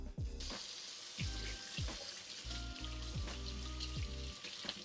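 Canned chickpeas rinsed under a running kitchen tap, a steady close splashing hiss of water with soft irregular pattering as it flows over them, with no talking.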